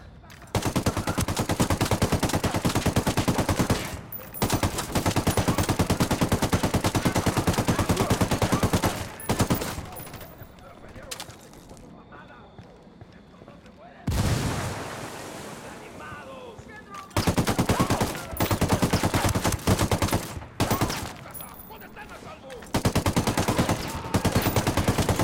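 Automatic weapon fire in Ghost Recon Wildlands on PS4, long loud sustained bursts of machine-gun fire broken by short gaps and a quieter stretch in the middle before the shooting resumes.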